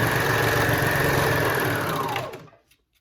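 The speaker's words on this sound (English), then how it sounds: "I'm going to sew off the edge." A sewing machine runs a steady, fast stitch off the edge of mesh fabric for a custom dance costume with cutouts, humming loudly and evenly for about two seconds before winding down and stopping.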